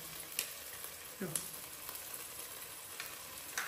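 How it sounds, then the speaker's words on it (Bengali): Garlic and ginger paste fries in a pan for a pangas fish and brinjal dish. A soft, low sizzle runs throughout, punctuated by occasional light clicks of a spoon. "এবার এটাকে ভালো করে ভেজে নেব।"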